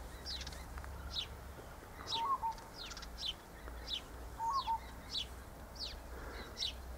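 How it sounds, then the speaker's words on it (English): A small bird repeats a short chirping call near a thistle patch, with several clear chirps spaced across the stretch over a low steady background hum. "That's the hollyhock bird, I suppose you could call it, couldn't you? It goes hollyhock all day long."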